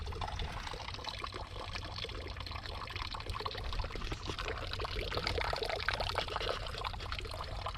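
Steady pouring or trickling water, a continuous close splashing rush that holds level throughout with no voices.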